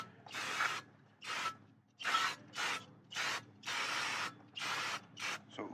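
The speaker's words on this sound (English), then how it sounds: "Alright, so now I'm just going to spray it up real fast." Brake cleaner is sprayed in hissing bursts onto a Toyota Camry rear disc brake, about eight bursts of uneven length in an irregular rhythm, close and fairly quiet.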